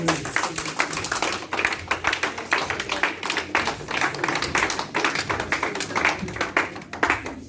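A church congregation applauding to acclaim Jesus Christ, a sustained rhythmic clapping that rises and falls, close and lively.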